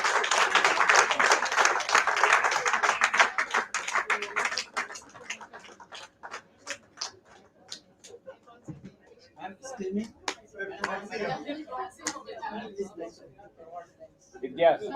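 Audience applause at a Women's Day celebration, a dense burst of many hands clapping at first, then thinning into scattered, sparse claps and faint crowd murmur.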